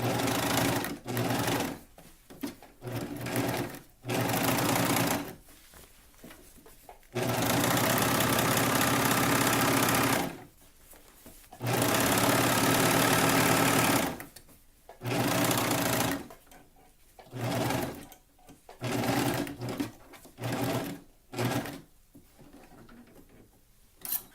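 A sewing machine stitches a tankini top in repeated bursts, its fast motor whir running loud and close for a few seconds at a time, broken by short pauses, with longer steady runs in between.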